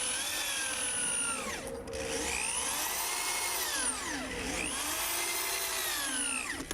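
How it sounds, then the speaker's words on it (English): Power drill driving deck screws through pre-drilled, countersunk holes into wooden boards of a raised vegetable bed: a loud, continuous whine rising and falling in pitch through two long runs, close and alone. "I cut them, pre-drilled and countersunk holes, and attached them to the bed with deck screws."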